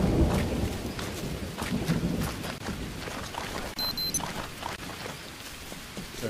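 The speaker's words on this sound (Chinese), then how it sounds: "下雨。" A night downpour in the jungle hisses steadily while distant thunder rumbles underneath, with scattered drops pattering close by throughout.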